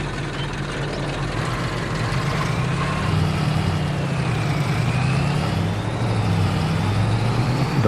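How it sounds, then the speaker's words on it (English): Tractor engine in the video game Farming Simulator 22 running at a steady idle, a continuous close low rumble with a faint higher whine drifting above it, with no voices. "The motor starting sound sounded really good."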